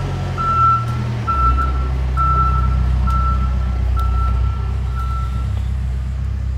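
Construction truck reversing outside a house, its steady beeps repeating about six times at an even pace over a loud low engine rumble, fairly near.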